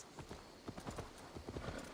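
Horse hooves clip-clop in a quick, uneven rhythm in the video game Assassin's Creed Valhalla, fairly faint and close, with a few soft background sounds.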